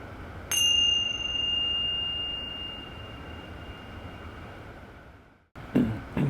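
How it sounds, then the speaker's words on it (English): A single meditation bell struck once to open a practice session, its clear ringing tone sustaining and slowly fading over several seconds in a quiet room, followed by a brief shuffle of movement. "So I'll ring a bell to begin the practice session."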